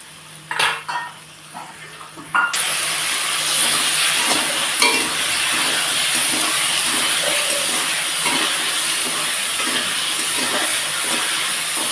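Green peas frying in a pan with cabbage, a steady loud sizzle filling the kitchen after a few clanks of utensils, with faint popping and stirring scrapes running through it.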